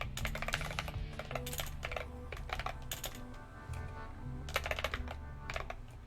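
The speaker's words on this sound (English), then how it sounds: "Like typing slow or fast, it sounds nice." Typing on a mechanical keyboard with lubed switches, a steady run of soft, rounded keystroke clacks at varying pace, close and continuous with no talking.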